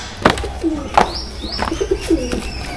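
Pigeons of a high-flying champion breed coo close by in soft repeated throaty calls, with a few higher chirps mixed in and no talking.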